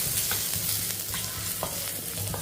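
Chopped garlic and cumin sauté lightly in ghee in a pan, giving a steady close sizzle with a few soft stirring scrapes and no talk.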